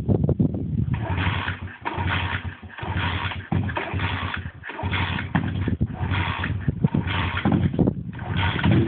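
A pit bike engine revs hard and close, climbing and falling in repeated throttle bursts with brief dips between them, and the sound is band-limited.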